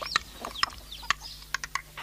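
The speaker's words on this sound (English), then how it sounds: "Come on, you stupid chicken." Chickens cluck and squawk in short, sharp bursts with a few rising whistly calls, close and fairly loud, irregularly spaced with no talking.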